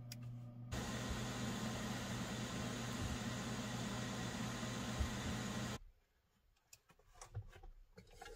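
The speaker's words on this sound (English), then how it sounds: "So we're gonna air fry 375" An air fryer set to 375 degrees runs with a steady, even whirring hum for several seconds, then cuts off abruptly, leaving a quiet room with faint small clicks and movement.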